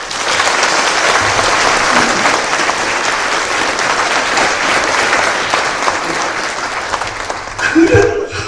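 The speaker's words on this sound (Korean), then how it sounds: "우리 하나님의 영광과 찬양의 박수를 합니다." Congregation clapping in praise during a Korean church worship and ordination thanksgiving service, loud continuous applause filling the sanctuary, then fading as a voice briefly speaks at the end.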